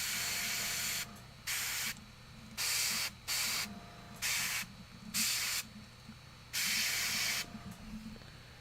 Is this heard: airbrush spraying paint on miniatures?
yes